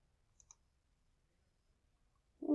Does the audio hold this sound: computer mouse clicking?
yes